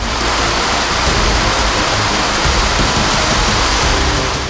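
Heavy monsoon rain pouring down in a city in Uttar Pradesh during flooding, a dense, loud and unbroken roar of water that stays steady throughout with no voices.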